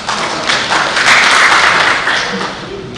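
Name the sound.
audience clapping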